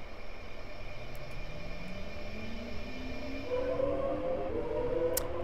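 An electric Class 466 train in Train Simulator 2014 pulls away from the platform at Ryde Pier Head. Its motor whine climbs steadily in pitch over a constant rolling rumble and builds toward the end, with no talking.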